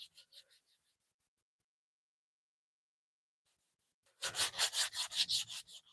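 Sandpaper rubbed by hand over a carved wooden piece, giving a quick run of about eight even, scratchy back-and-forth strokes close up. The strokes follow a long quiet stretch after faint early scraping.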